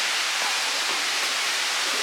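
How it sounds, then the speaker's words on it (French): A waterfall reached after an hour's hike, a steady full-bodied rushing hiss of falling water, close and unbroken, masking any fainter sounds around it. "On vient d'arriver à la cascade, enfin c'est ce que vous pouvez entendre en arrière-plan avec les petits bruits d'oiseaux"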